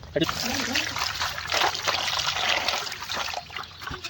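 Water trickles and splashes steadily as cut fish are rinsed by hand, with a voice talking over the running water.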